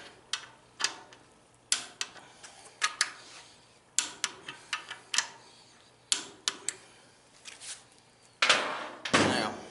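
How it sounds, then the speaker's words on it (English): Sharp, evenly spaced metallic clicks from a torque wrench tightening bearing fasteners on an M38 Go Devil engine, close and fairly loud, coming in short bursts with brief pauses and a heavier clunk near the end. "We're just going to torque them in place."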